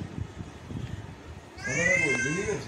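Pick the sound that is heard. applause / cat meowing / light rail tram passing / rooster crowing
cat meowing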